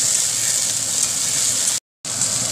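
Ingredients for matar pulao fry in a pan with a loud, continuous sizzle while being stirred, broken by a brief cut to silence near the end before the sizzling resumes; nobody speaks.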